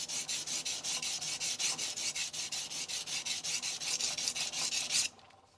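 A blade tip is drawn steadily across a 400-grit FSK vitrified diamond stone, making a dense run of even, rhythmic rasping strokes that stop abruptly near the end.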